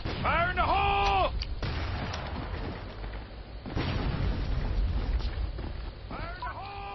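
Grenade blast in the online shooter Metro Conflict, a deep muffled boom with low rumble rolling under a player's voice and game effects, followed by a second thump a few seconds later.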